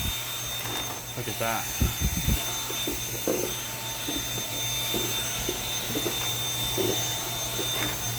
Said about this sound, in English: Let's vacuum this.